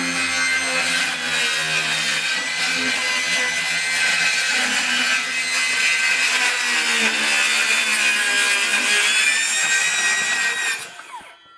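A Kobalt XTR circular saw cuts through paneling, its motor whining loud and steady close by as the blade bites evenly through the board for about ten seconds before spinning down at the end.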